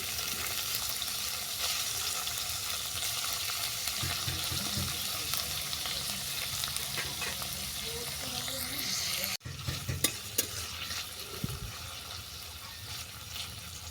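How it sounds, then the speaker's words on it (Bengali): Onions and vegetables for muri chowmein fry steadily in a hot pan, a continuous close sizzle with occasional stirring scrapes and a sharper clatter near the end. "এগুলোকে সমস্ত ভালো করে ভেজে নেব"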